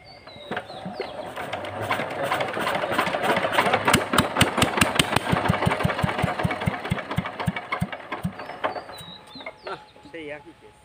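A stubborn engine with a starting problem is cranked in sharp repeated bursts, catching into a rough mid-pitched running sound across most of the clip, with a rooster or fowl calling in the background and faint voices.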